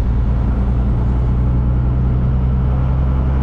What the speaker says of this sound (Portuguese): Quando você começa o barulho da turbina enchendo